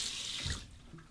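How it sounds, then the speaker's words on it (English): Hot tap water running from a faucet into a ceramic shaving bowl, a close, steady splashing rush that shifts tone briefly midway as the bowl fills. "I will take my Shave Nation bowl, warm it up under the hot water"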